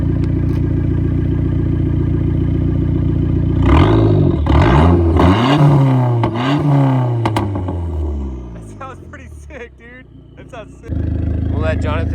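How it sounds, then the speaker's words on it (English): A 2005 Dodge Neon SRT-4 engine, close to stalling, idles loudly, then revs up and down a few times in rising and falling sweeps before settling back to a rough idle; voices talk over it. "Give it a couple revs"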